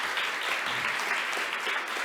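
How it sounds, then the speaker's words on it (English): An audience at a data science conference gives a short round of applause after a talk, dense, even clapping with no voices. "So, well, we can have a short applause,"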